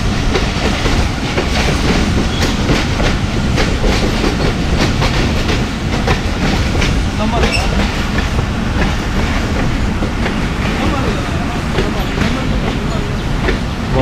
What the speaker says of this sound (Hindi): सुबह 9:05 पे नमल रेलवे स्टेशन के ऊपर अप्रोच बनाई है ट्रेन ने